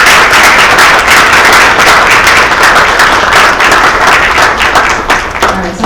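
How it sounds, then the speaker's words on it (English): A conference audience applauds loudly and steadily for several seconds after a panel discussion, the clapping thinning out briefly near the end. "let's give our panelists a round of applause"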